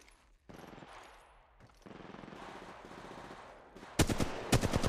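Gunfire in the battle royale shooter Apex Legends Mobile: after some quieter shuffling and game noise, a rapid burst of loud, sharp automatic shots cracks out near the end, close and punchy.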